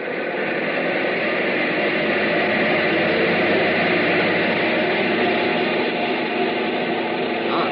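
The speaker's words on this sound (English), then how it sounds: "Bring number one engine up to maximum RPM." Number one airplane engine roars at maximum RPM on a test block in 1942, a loud, steady, unbroken drone that holds level from start to finish.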